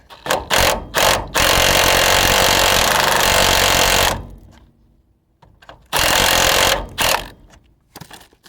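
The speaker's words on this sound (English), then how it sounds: "I'm gonna need the impact gun for that one." Pneumatic impact gun hammering on car cross member bolts, several short rattling bursts then a long sustained run of about three seconds, a pause, and another burst with brief stabs, loud and close.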